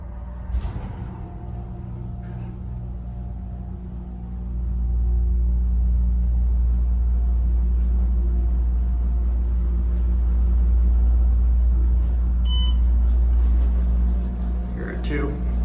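The motor of an Otis Series 5 hydraulic elevator at Eastwood Mall in Niles, Ohio starts with a low surge and then holds a steady, loud, deep hum with a faint higher whine, running close by for several seconds.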